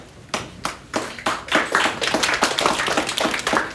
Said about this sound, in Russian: Спасибо большое, хлопаем